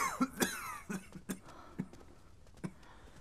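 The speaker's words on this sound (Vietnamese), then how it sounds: "Vẫn ho mãi không dứt, không ngủ yên được." An ailing father in a Chinese costume drama coughs repeatedly, with several harsh, uneven coughs and throat clearing that fade between bursts and no speech.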